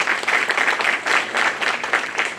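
A crowd applauding steadily at a Bar Council of Delhi enrolment meeting, dense clapping that keeps going at an even level throughout.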